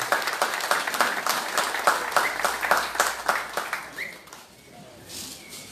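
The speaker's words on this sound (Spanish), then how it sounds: "Fuerte el aplauso" Applause from an audience at a government cattle-handover ceremony in Chiapas, a steady rattle of many hands that holds strong, then thins out and fades near the end.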